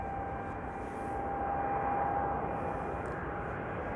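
A Boeing 787-10 Dreamliner at Amsterdam Schiphol gives a steady, faint, distant jet drone with a thin whine, even and unbroken throughout.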